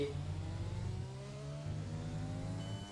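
Formula One race car engine in F1 2020 at the Bahrain circuit, a loud, steady high-revving whine that climbs in pitch and then drops sharply at each upshift, repeating through several gears without pause.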